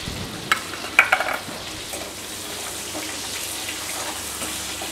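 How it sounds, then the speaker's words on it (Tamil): Onion sautéed in a pan for horse gram chutney gives a soft, steady sizzle with a few brief stirring scrapes near the start, heard alone. "இதில் இருக்கிற ஒரு 1/2 வெங்காயம் மட்டும்தான் இப்போ நான் உள்ளே போட்டு வணக்க போகிறேன்"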